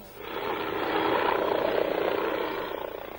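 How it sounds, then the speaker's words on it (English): An Essex Air Ambulance helicopter arrives at Audley End near Saffron Walden, its rotor and engine roar swelling to a loud, steady throb at close range before easing slightly as it settles. "The helicopter makes an impressive arrival at Audley End near Saffron Walden."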